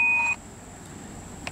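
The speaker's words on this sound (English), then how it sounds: "That was my phone." A mobile phone gives off a short, clear electronic notification beep up close, with a faint second tone a moment later over quiet outdoor background in a woodland nature park.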